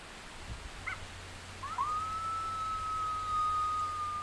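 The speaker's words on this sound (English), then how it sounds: "So now I'm playing it the female invitation howl. Sounds like a young coyote. The howl is really high pitched." A high-pitched female coyote invitation howl from a predator call, sounding like a young coyote, rises after a couple of short yips into one long sustained wavering note outdoors, clear over a low steady background hum.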